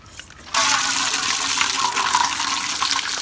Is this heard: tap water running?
yes